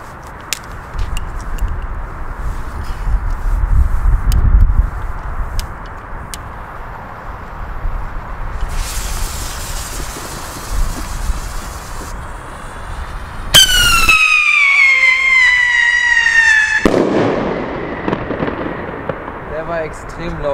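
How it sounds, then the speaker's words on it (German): A blue siren firework rocket launches with a loud whoosh and a rising, sliding siren whistle that screams for a few seconds before cutting off, set against steady outdoor noise. "Jetzt machen wir noch eine Sirenenrakete in Blau."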